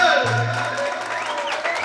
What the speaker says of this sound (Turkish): Alkışlar gelsin be